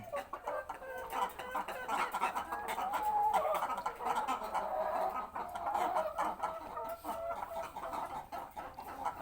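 Backyard chickens, including hens that have stopped laying, cluck and chatter continuously at close range, with overlapping calls forming a busy, steady flock murmur.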